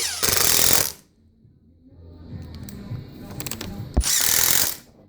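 A power drill drives screws into wood during a woodworking build, with two loud bursts of motor whine at the start and end and quieter scraping and handling noise between them.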